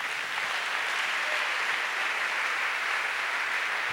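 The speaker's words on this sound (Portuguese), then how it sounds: "Você pode aplaudir ao Senhor?" A church congregation at a family evening service claps together, a steady, fairly loud wash of applause with no talking over it.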